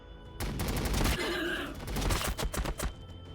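Rapid gunfire crackles in a burst of volleys from Warhammer 40k Battlesector, loud and close, with sharp repeated shots and a shouted battle command layered over the firing.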